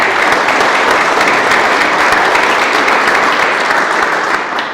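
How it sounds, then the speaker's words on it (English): A live audience claps steadily through a round of applause at a business strategy talk, a dense, even wash of clapping that holds loud throughout and eases slightly at the end. "If we could have a round of applause for that, please."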